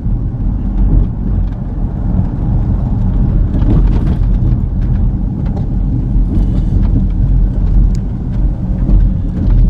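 A car driving on a road through the northern part of Gary near the steel mill, a loud continuous low rumble of engine and tyre noise with wind buffeting, no voices.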